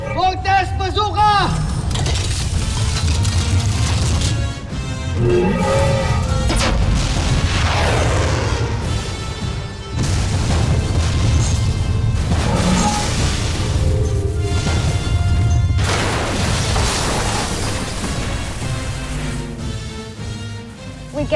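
The Voltes Bazooka weapon fires in a Voltes V Legacy anime battle, heavy booming blasts and crashing impacts that repeat in several loud bursts, mixed with music and sound effects throughout.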